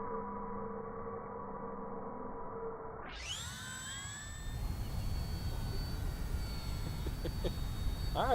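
A Maiden Arrows Bearcat 1100mm RC warbird model airplane passes close in strong wind, its electric motor whine rising sharply, then a windy roar with a steady tone as it flies on.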